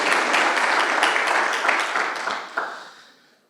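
A church congregation breaks into sustained applause, dense clapping that swells and then fades away over a few seconds.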